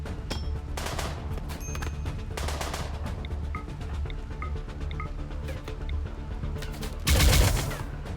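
An automated turret in the colony game RimWorld fires in rapid bursts of gunshots with brief gaps, ending in a louder, heavier volley near the end.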